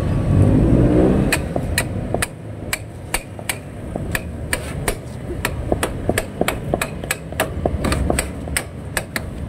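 Sharp, ringing hammer blows strike metal repeatedly, about twenty hits at an irregular but steady pace, over a rumbling engine and background noise.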